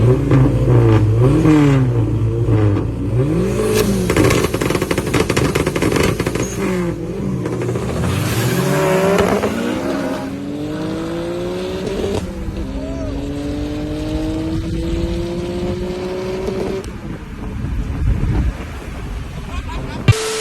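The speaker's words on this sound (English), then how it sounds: "we have a SRT4 who's just testing his brand new built engine" Car engines roar and rev loudly, rising through gears in long sweeps, with crowd chatter and shouting underneath throughout; a Dodge SRT-4 with a newly built engine and a Nissan Skyline R33.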